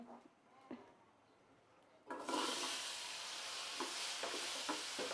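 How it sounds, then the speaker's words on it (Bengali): Potatoes hit hot oil with a sudden loud sizzle, after a few quiet knocks, then keep frying with a steady close hiss and occasional stirring. "আলুটাকে ভাজতে বসিয়ে দিলাম।"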